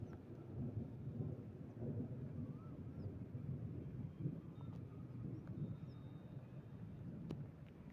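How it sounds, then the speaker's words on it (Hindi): Thunder rumbling from storm clouds over farm fields, a low continuous rolling growl with swelling surges, distant but filling, with wind buffeting the microphone and no voices. "भाई बादल बिल्कुल गड़गड़ रहा है भाई"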